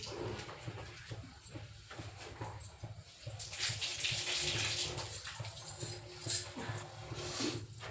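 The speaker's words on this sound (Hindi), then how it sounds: "अदरक धुल गई" Ginger being washed under a running kitchen tap, a steady gush of water splashing for several seconds with a broad hiss that swells in the middle and continues to the end.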